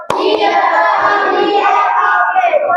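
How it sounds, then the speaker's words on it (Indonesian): A primary school class claps and chants together in a rhythmic group praise routine, a loud burst of children's voices and hands starting sharply and carrying on steadily as a dense, close crowd sound. "kita apresiasi dengan tepuk good job untuk kelompok"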